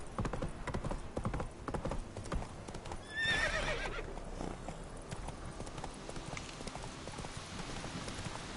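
Rapid clip-clop of a galloping horse in The Witcher 3: Wild Hunt, with a sharp, high neigh about a third of the way in, then steady hoofbeats over ambient game sound.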